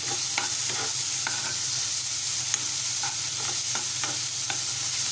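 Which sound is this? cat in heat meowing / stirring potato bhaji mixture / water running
stirring potato bhaji mixture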